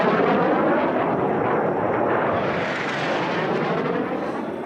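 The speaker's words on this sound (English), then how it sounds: "Beautiful airplane." An L-29 Delfin jet racing in the jet class at the National Championship Air Races roars past as a loud, sustained broadband rush, steady for several seconds and easing slightly at the end.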